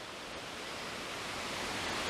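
Water pours over a ledge beside a river, making a steady, dense rushing roar that stays up close and unbroken throughout.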